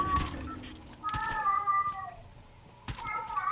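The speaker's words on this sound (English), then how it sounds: "Is that a cat?" A cat meows three times, the calls close and clear, with short pauses between them.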